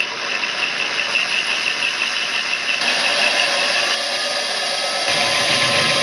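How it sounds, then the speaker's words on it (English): Drill bit boring through a glass bottle submerged in water, made while building a lighted Civil War display; a steady, close grinding whine runs unbroken the whole time with no talk. "you really want to slow down and not smack the bottle with the drill"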